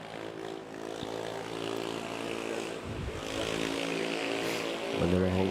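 An Airbus A330neo airliner at Manila Airport gives a steady, moderately loud engine roar with a propeller-like drone, swelling slightly toward the end, heard from a distance in the early morning.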